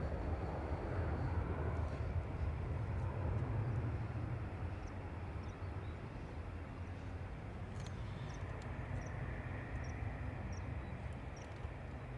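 ATR turboprop airliner at Dublin Airport, a steady low engine roar and rumble heard from a distance, sustained and even for the whole stretch with a faint high whine over it.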